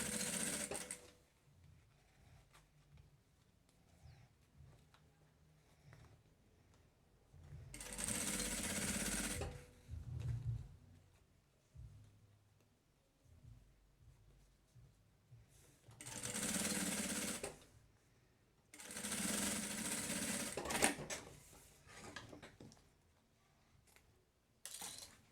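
Sewing machine stitching a finishing seam on a handmade lunch bag, running in several loud bursts of a few seconds each with quieter handling noise between them.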